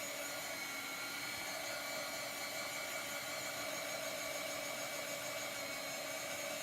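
A hair dryer blows hot air to heat-set chalk paste on a canvas tote bag, giving a steady, even whirring roar with a constant tone throughout and no talking.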